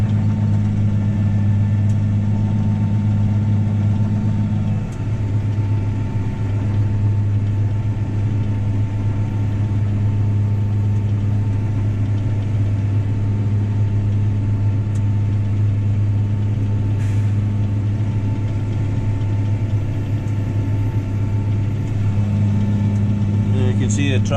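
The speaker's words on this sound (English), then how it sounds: "See the tractor and the dung spreader's now drifting in there, so put it up a gear and it'll keep it going forward." A New Holland T7030 tractor pulling a dung spreader, its engine a loud, steady low drone that runs the whole time with only slight shifts in pitch.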